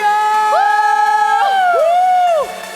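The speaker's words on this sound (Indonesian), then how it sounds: "Yang semangat sorakan haleluya." Members of a youth church congregation shout hallelujah together during an online service, a loud sustained group cry with a rising and falling sung pitch, close and strong, ending abruptly.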